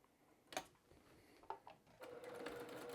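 Sewing machine back-stitching a fabric corner on a scrap-fabric pet bed, short quiet bursts of stitching with brief pauses, then a steadier whirring run toward the end; faint and close.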